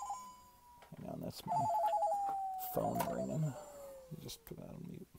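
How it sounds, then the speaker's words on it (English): A steady electronic ringtone with a gliding, stepped tone sounds through the clip, under a voice speaking briefly nearby. "Hang on, that's my phone ringing."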